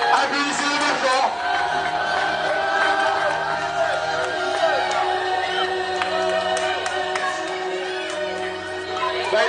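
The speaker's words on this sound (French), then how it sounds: "Applaudissez-le bien fort." A wrestling-show crowd roars and cheers for the winner, a dense, loud wall of shouting and whooping voices that holds steady for nearly ten seconds.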